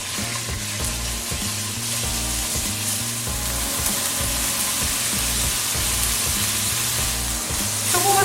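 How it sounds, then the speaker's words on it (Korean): Meat stir-frying in generously oiled, preheated pan for japchae gives a loud, continuous sizzle with scraping stirs, over a low repeating musical backing. "자, 여러분 우선 먼저 고기를 볶겠습니다."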